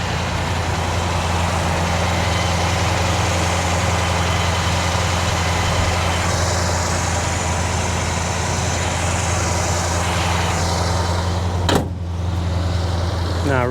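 Big block 1967 Chevrolet Impala SS idling nearby with a steady low rumble, a brief sharp mechanical sound near the end, and no speech heard.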